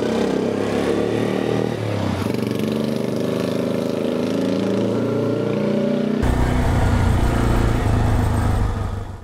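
A 1955 NSU Max Special 250 motorcycle engine runs steadily and loudly up close, its throbbing drone holding for the whole stretch before shifting to a deeper, fuller note partway through.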